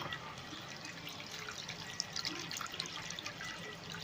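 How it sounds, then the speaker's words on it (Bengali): Water poured into a pan of prawns steaming for Bengali chingri bhapa, a faint trickling splash with small drips and light sizzle-like crackles, quiet and close, no speech. "দেখুন জলটা কমে গেছিলো, আমি জল দিলাম"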